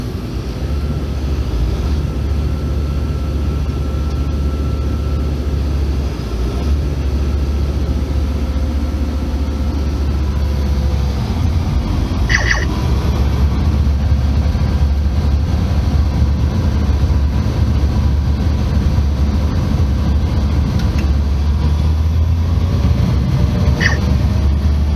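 A New Holland CR920 combine harvester engine runs at low RPM, a loud, steady, close diesel drone with a deep hum that holds for the whole stretch.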